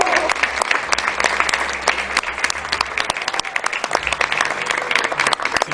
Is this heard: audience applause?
yes